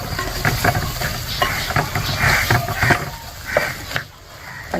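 Sardine and Chinese potato (koorka) curry, Kerala style, being stirred and mixed in a pan: a steady run of soft scraping and clacking strokes over a low sizzling bed, close and fairly loud.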